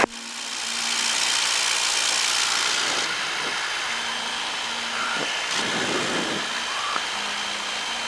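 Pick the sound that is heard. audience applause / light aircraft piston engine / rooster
light aircraft piston engine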